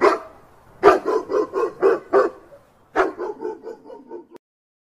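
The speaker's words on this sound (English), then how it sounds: "D for dog." A dog barks in two quick rapid series, the first with about six sharp barks and the second tapering into softer yips, close and alone.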